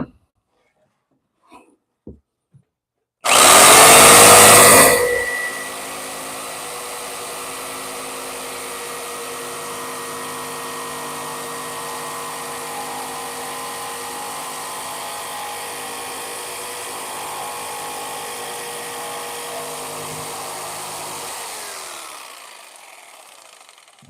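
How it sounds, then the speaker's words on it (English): A sander smoothing a rough wooden piece starts with a loud burst, then settles into a steady, sustained whirring hum before winding down, with a few faint knocks before it starts. "It's ugly, but I'll fix that with the sander."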